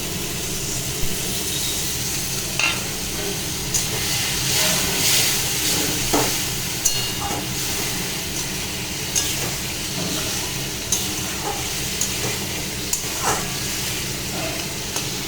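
Masala for a katla fish curry fries in oil with potatoes added, giving a steady close sizzle and hiss across the whole stretch, with occasional faint clicks of a stirring utensil and no talking.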